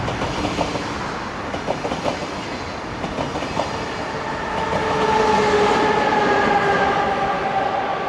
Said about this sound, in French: on attendait aussi qu'il y ait un train qui passe pour pouvoir faire une photo avec